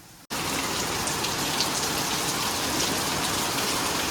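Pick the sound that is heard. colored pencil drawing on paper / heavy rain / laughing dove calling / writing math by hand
heavy rain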